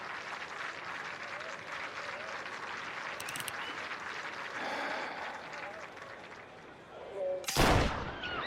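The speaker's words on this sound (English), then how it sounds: "Reports of gunfire at the Turnbull rally" Gunfire rings out in a 1930s-style mafia crime drama cinematic, a single sharp loud crack bursting through a steady wash of crowd noise and murmuring voices at a political rally.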